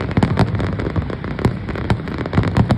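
Fireworks crackle and pop in a dense, rapid barrage at a fire festival in South Korea, loud and continuous with sharper bursts scattered throughout.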